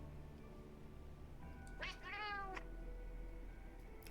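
A cat meows once in Monster Hunter Wilds, a short rising-and-falling call over a quiet ambient game background with faint voices nearby.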